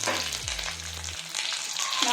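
Curry leaves, asafoetida and dried red chilli crackle and sizzle in hot oil as a tempering for pepper coriander rasam, a steady close frying hiss with a low hum underneath and no speech.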